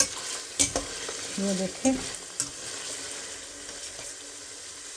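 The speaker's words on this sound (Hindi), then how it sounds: "तो यहाँ मैं इसको भून रही हूँ।" Cinnamon and whole spices frying in oil for a green-onion and chickpea pulao, a low faint sizzle with a few sharp clinks and stirring scrapes early on, and a short spoken phrase.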